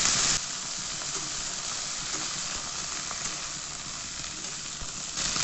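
Potato and eggplant pieces fry together in a pan of oil, giving a steady, close sizzling hiss with light stirring.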